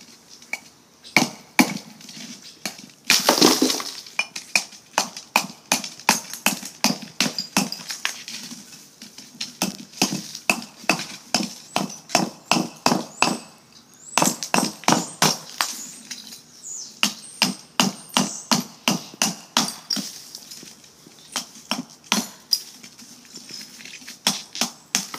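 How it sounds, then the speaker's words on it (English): A hammer pommel chips corners off a block of ice outdoors in cold weather, a long run of sharp cracking strikes in bursts, some rapid and clustered, with brittle splintering crunches between pauses. "I'm going to break off some of the corners with this hammer pommel."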